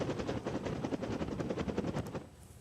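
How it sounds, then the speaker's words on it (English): A rescue helicopter lifting a kayaker off the North Fork of the American River in California gives a steady, loud rotor thump with rapid, even beats and no voices, then fades slightly near the end. "The victim was brought to safety by helicopter."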